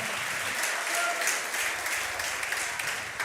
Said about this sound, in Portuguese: Aplauda forte a Jesus